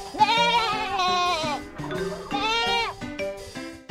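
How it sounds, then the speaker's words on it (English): A goat bleats in an animated children's alphabet lesson: two long, loud, quavering bleats, each followed by shorter broken calls, heard up close and alone. "Goat."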